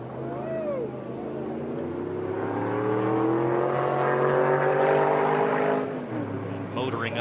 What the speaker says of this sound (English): Up the hill, the engine sound of that car is just unbelievable.